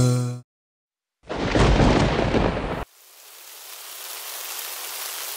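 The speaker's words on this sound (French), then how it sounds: "Oh, il pleut." Loud burst of thunder rumbling for about a second and a half after a brief gap, then steady rain falling and hissing through the rest, set in a French Halloween children's rhyme.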